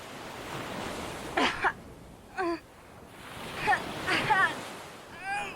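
Ocean surf washes against a shore in a broad, rolling hiss that swells and eases, with a few short voice sounds breaking over it.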